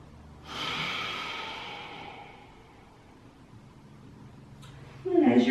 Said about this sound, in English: Last breath.